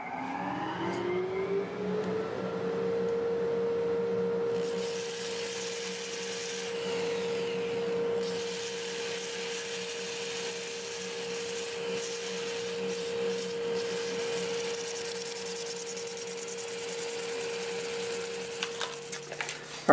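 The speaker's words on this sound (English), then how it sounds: "I'm going to start the dust collector and we'll do a little sanding" Steady whooshing of a dust extractor runs throughout while a sander rasps against turned mimosa wood, a continuous mechanical drone with shifting grinding texture.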